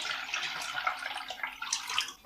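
Warm water pours into a bowl to soak rice noodles, making a continuous splashing trickle that rises and falls a little in strength and carries on for about two seconds.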